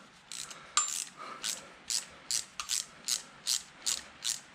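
A 1/4 inch ratchet turning a 10mm bolt on a Nissan VG30DE engine from a 300ZX during teardown, clicking in about ten short, evenly spaced bursts of metallic pawl ratcheting, close and distinct.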